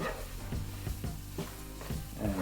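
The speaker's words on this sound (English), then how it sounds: "We're going to go ahead and cook this until our roux starts to brown." Roux sizzling in a pan as it is cooked and stirred toward browning, a quiet steady fry with soft rhythmic scrapes of the spoon roughly every half second.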